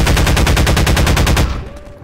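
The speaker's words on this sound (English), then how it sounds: "where are they shooting me?" Rapid automatic gunfire in Half-Life 2, a loud, close, steady burst of evenly spaced shots lasting under two seconds before it cuts off and decays.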